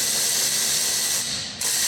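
A ratchet wrench loosens a 10 mm bolt on a Hyundai Tucson, a close, rapid continuous clicking with a brief pause near the end, no voices.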